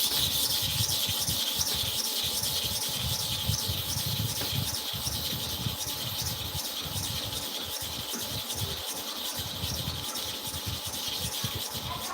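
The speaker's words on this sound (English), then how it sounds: "So I'm sharpening 30 times here with light pressure again." A clipper blade is drawn back and forth across a sharpening surface with light pressure, making a steady, continuous gritty rubbing that runs unbroken and close up with no talking.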